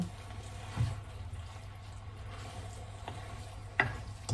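Peas being stirred into broccoli and cauliflower egg fried rice in a pan, with a steady low sizzle and a few soft scraping knocks of the utensil, close and without talk.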